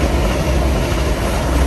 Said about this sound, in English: There's a train going through.